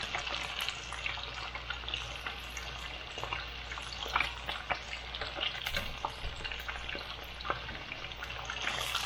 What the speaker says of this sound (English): All right, so I got them in the pan here frying panko crumb.